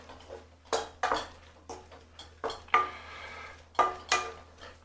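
A cooking spoon knocks and scrapes against a pot while apples soften for crumble cake, a series of irregular clinks and scrapes spaced about half a second apart, close and alone.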